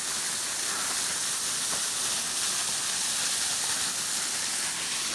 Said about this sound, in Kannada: ಅಲ್ಲಿಂದ ನೀರು ಬೀಳ್ತಿದೆ.